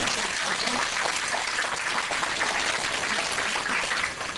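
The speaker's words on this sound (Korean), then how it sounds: "다시 한번 강사 선생님께 뜨거운 박수 부탁드립니다" A hall audience gives a lecturer a dense, sustained round of applause, steady clapping from many hands filling the room without a break and tapering slightly at the end.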